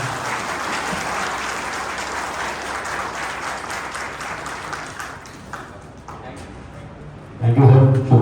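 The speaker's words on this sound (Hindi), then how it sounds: "तालियों की गड़गड़ाहट" Loud, sustained applause from a crowd at a corporate sales session, dense clapping that gradually thins out before a voice speaks up near the end.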